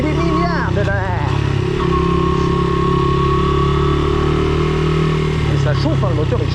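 A motorbike engine runs steadily and loud throughout, a constant low drone with clattering, while someone talks over it close by.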